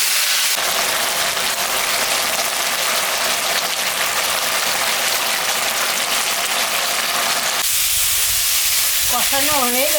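Fish roe and ash gourd sautéing in a pan with green chillies and a little sugar, a steady close sizzle and frying hiss that runs without a break.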